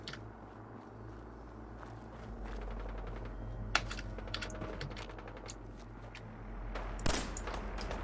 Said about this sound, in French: Ah, il y a des coups de feu.